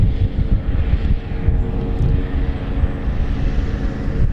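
Dynam Boeing PT-17 1300mm RC model biplane flying a loop, its propeller engine droning steadily and moderately loud, with wind buffeting the microphone throughout.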